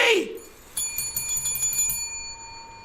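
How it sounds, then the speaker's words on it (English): A bright bell rings repeatedly in quick metallic strikes with a sustained shimmering ring, heard up close after a short burst of speech at the start. "Get your own bell now!"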